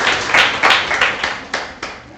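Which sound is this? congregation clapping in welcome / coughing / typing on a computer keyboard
congregation clapping in welcome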